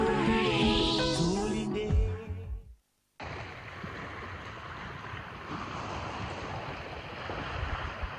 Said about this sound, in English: The sound of waves crashing against the shore is a familiar rhythm for communities along Tanzania's coastline.